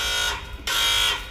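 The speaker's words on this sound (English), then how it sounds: "about the alarm going off. As you can hear it and see it." A Dodge car security alarm sounds in a loud, steady electronic tone that cuts off briefly midway and then resumes, continuous and close.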